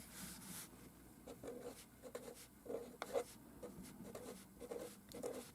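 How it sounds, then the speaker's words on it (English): Pencil or pen writing a number on paper during a classroom context-clues lesson: soft scratchy strokes in short bursts with gaps, close and faint, no voices. "I'm going to jump down a couple of spaces and write my number 2."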